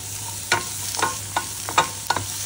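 Onions fry in oil at the start of making palak paneer, a steady sizzle broken by four or five distinct scraping strokes of a spoon against the pan, close and clear.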